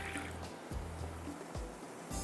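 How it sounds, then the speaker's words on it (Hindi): Water trickles and pours into a pot of seekh kabab biryani, a short liquid stream with gurgling, splashing bursts heard close and alone. "थोड़ा सा पानी डालूँगी, तकरीबन आपने आधा कप के अंदर इसमें पानी डाल देना है"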